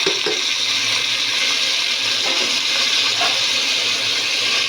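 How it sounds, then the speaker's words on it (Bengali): Pulao rice frying in a pan, a loud, steady broadband hiss and sizzle that stays even throughout with no pauses. "আর এদিকে আমি ব্রেস্তা বসিয়ে নিয়েছি, এখানে চালটা দিয়ে ভেজে নিব।"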